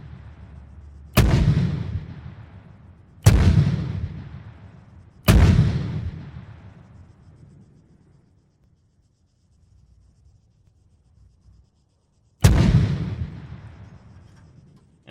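Mortar rounds fire in the Arma 3 Antistasi game, four loud booming thumps spaced a couple of seconds apart with a longer gap before the last, each decaying into a rumbling tail, with no talk.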